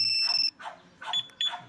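A 2-way alarm fitted to a Honda Click Version 3 scooter sounds in short electronic bursts, a loud siren-like tone followed by several warbling chirps in quick succession.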